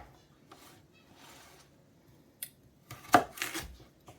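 Carrot tops being cut into smaller pieces for a chicken pot pie make a few quiet, close snipping and chopping sounds, with the sharpest cut near the end over a soft, low background.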